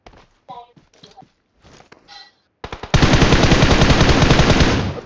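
Sustained automatic gunfire in the mobile battle royale game BGMI, loud and close, bursting in after about three seconds of quieter footsteps and scattered sounds with brief speech, then roaring continuously to the end.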